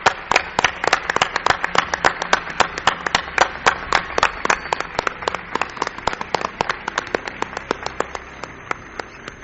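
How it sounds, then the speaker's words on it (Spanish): Applause for a guest on a radio program, a smaller group clapping with distinct, sharp individual claps in a quick uneven rhythm, fairly close and loud, thinning slightly toward the end. "Yo quiero un aplauso para mi buen amigo"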